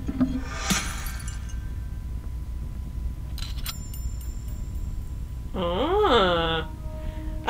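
A clay pot is smashed in the Whispering Willows video game, with a sharp ceramic crack and clattering shards early on, followed by quieter game ambience and a brief tonal in-game chime.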